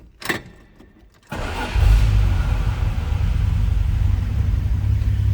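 A 1982 Dodge D150 pickup with a 225 slant six engine and manual transmission cranks and catches, then settles into a steady, loud, rumbling idle close by.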